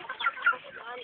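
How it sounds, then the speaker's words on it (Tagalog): Chickens cluck on a farm, with a few short, close clucks and squawks in a quick, uneven burst that sounds somewhat muffled and band-limited. "Ang dami manok."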